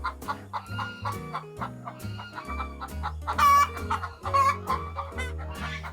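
Laying hens on a temple egg farm cluck loudly and close by in rapid, overlapping bursts, with a few drawn-out squawks rising above the flock and no speech.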